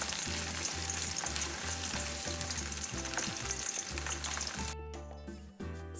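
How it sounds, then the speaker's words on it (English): Marinated chicken pieces fry in a wok with a loud, continuous close sizzle and crackle, alongside a rhythmic low hum, then a brief scraping stir near the end. "I'm going to add one by one the marinated chicken pieces into the wok, frying each side of the chicken pieces until it turns crispy on"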